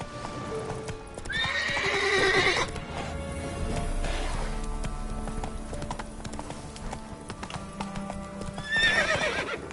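Roach, the horse from The Witcher 3, gallops with quick rhythmic hoofbeats and lets out two shrill whinnies, one early and one near the end, close and clear against the game ambience.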